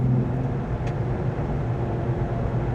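Steady broadband road roar with a constant low whir from Venom Power SwampThing mud-terrain tires at 55 mph, heard from inside the vehicle and continuous with no voices.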